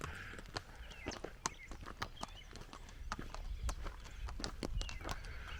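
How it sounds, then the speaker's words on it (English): Hooves clop steadily on the ground as horses walk close by on a hiking trail in Torres del Paine, a busy irregular patter with faint birds in the background. "I think these horses are wanting to give me a lift."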